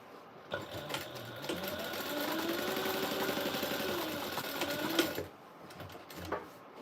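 A sewing machine stitches closed the bottom gusset of a fused bag, with one continuous close mechanical whirr that starts, runs for several seconds and then stops, followed by light handling noises.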